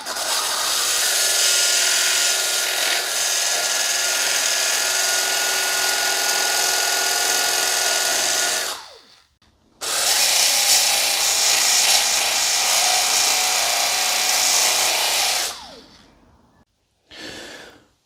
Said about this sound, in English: I'm just going to use my little snap-on sander polisher with a sanding disc on it